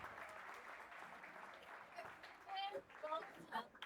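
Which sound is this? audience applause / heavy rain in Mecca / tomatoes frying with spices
audience applause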